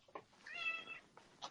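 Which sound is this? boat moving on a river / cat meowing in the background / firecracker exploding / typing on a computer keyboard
cat meowing in the background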